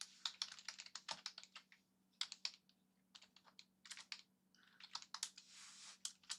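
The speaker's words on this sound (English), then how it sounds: "I'm typing it in." Quick clicking keystrokes on a computer keyboard come in several fast bursts separated by short pauses, close and fairly quiet.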